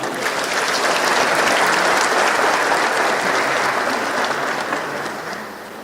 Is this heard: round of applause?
yes